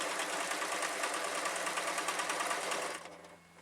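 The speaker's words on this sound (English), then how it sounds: "It's actually an embroidery machine" Rapid steady stitching from a domestic embroidery machine quilting a large quilt, a fast even mechanical chatter that runs at constant pace and then stops, leaving a faint hum.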